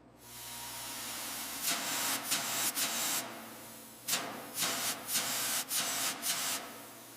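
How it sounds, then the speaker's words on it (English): Water spray rinsing chemicals off prepped 1933 Dodge truck panels, heard as a steady close hiss broken by repeated bursts of gushing, scrubbing spray. "just finishing up this final rinse to get all the chemicals off before the drying process begins"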